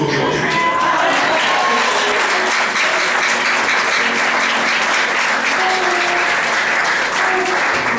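A church congregation applauds loudly and steadily for several seconds, a dense wash of clapping with a voice faintly audible underneath.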